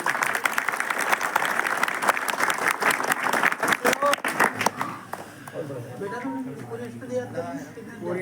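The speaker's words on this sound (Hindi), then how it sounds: "चलो भाई जोरदार ताली बजा" Audience applause at an Arya Samaj gathering, a loud, dense burst of clapping that fades after about five seconds into murmuring crowd voices.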